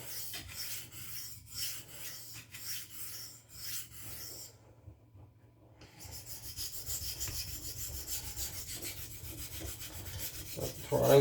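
A folding knife with a large choil is stroked back and forth across a sharpening stone, rhythmic close rasping passes that pause briefly midway and then resume in a steadier run, with no voices.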